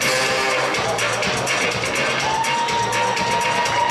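Crowd noise at a student festival awards ceremony, a steady dense wash of applause and cheering from a large audience filling the hall throughout, with a faint sustained tone running underneath.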